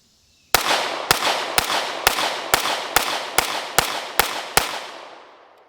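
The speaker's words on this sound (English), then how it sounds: "So let's give it a few shots. I got 10 rounds in here." Ten sharp, evenly spaced gunshots crack out from a Staccato C pistol fitted with a DPM Systems 4-inch recoil spring kit at a shooting range, each report loud and close, with a short echo trailing off after the last.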